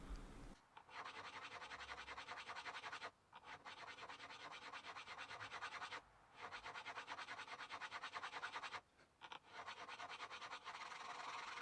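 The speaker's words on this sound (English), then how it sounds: "One of the things I really like about the Z file is that it uses a diamond abrasive to do its work instead of the teeth" A diamond Z file crowns guitar frets in long, steady rasping strokes, close and continuous, each pass broken by short pauses, with no talking.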